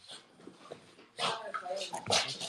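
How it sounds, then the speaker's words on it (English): A dog whimpers softly, then scrabbling and panting build up with yips and whines close by, as if dogs are moving around the room. "y'all hear my dogs running in here?"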